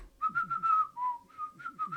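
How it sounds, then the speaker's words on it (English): A person whistles a melody from the Final Fantasy video game series, a clear, bright tune of short rhythmic notes and longer held tones, heard close and alone. "I would whistle the Final Fantasy"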